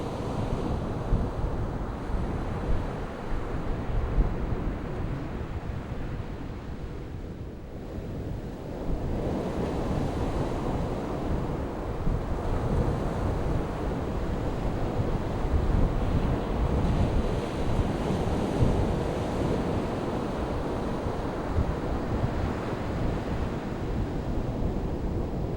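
Steady surf rolls in on Magnolia Beach, Texas, a broad continuous wash of waves with wind buffeting the microphone, loud and unbroken apart from a brief dip partway through.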